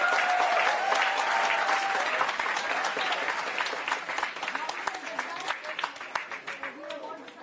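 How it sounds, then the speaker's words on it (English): An auditorium audience at a special outreach program applauds the successful Aditya L1 solar mission. The thick, loud round of clapping holds steady, then thins and fades toward the end. "I think we should all applaud once."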